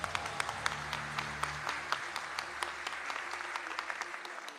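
Small audience clapping at a Dhamma school quiz event, a steady patter of individual claps with distinct sharp hits, moderately quiet and continuous.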